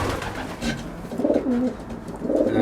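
Pigeons in a loft coo in low, throaty rolling phrases, two clear calls close by, with other soft bird sounds and background noise but no talking.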